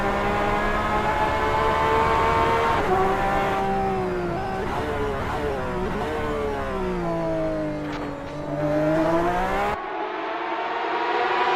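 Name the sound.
Porsche 911 RSR engine roaring at Spa in the video game Assetto Corsa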